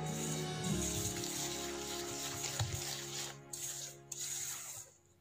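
M&M cookie dough is stirred in a bowl, making a soft, continuous rubbing and scraping that stays fairly quiet and ends with a brief pause.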